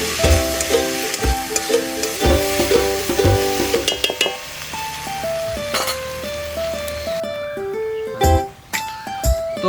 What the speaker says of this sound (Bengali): তারই সাথে সাথে যাবে একটু হলুদ। ভালো করে নেড়ে নিতে হবে।